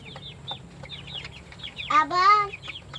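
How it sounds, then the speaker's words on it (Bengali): Quail in a poultry farm give repeated short, high chirps close by, with a louder, longer throaty call rising over them partway through. "দেখা পাচ্ছ কোয়েল পাখির ডাক"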